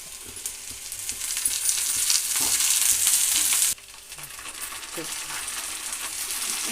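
Curry leaves crackle in hot tempering oil with chilli, grated ginger, cashews and onion, a bright close sizzle that builds, then cuts back sharply to a quieter hiss with occasional clinks, no talking.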